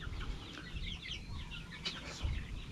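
Free-range chickens cluck and chatter in a yard, soft overlapping calls over a constant low rumble of background noise, with no voices.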